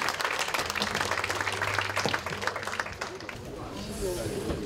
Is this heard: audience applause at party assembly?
yes